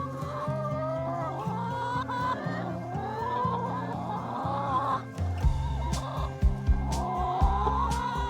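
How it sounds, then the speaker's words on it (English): Chickens clucking nearby on a farm in the evening in a continuous low, rhythmic chatter, with a few louder squawks and scuffles toward the end. "I love sitting out here with the chickens in the evening as it cools down"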